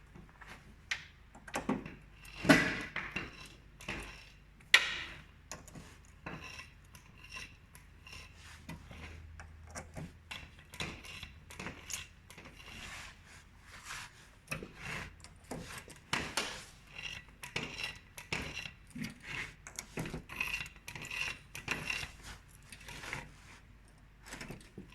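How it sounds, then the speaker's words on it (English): Someone greases the bogie wheels under a 1974 Ski-Doo Elan 250 snowmobile, making a long string of irregular close clicks, knocks and metallic ticks from the grease gun and fittings. "And now I'll grease all the boogie wheels underneath."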